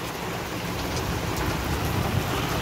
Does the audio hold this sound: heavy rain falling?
yes